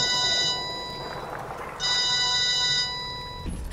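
A telephone rings in BioShock Remastered with two clear bursts separated by a short pause, loud and close, with no speech over it.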